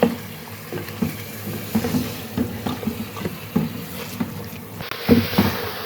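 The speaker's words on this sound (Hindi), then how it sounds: "अब गोश्त को इतना भून लेंगे कि गोश्त पिंक से वाइट ना हो जाए।" Mutton with garlic ginger paste and green chilli paste being fried and stirred in a pan, soft sizzling under repeated scraping and stirring strokes in an uneven rhythm, close and moderately loud with no talk.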